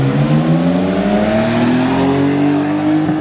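A BMW 3 Series car drives past on a city street, its loud engine note climbing steadily as it accelerates close by, with no voices over it.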